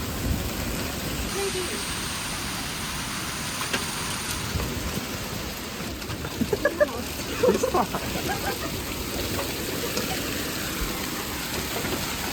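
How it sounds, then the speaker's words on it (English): Heavy pelting hail drums steadily on surfaces, a dense, continuous roar with a few sharper clatters midway, and a voice briefly heard. "Hail."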